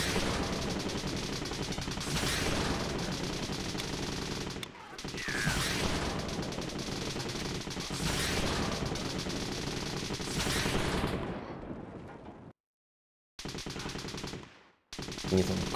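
Gunfire in a zombie defense video game, dense machine-gun bursts rattling almost continuously with brief gaps near the end, loud and unbroken by speech.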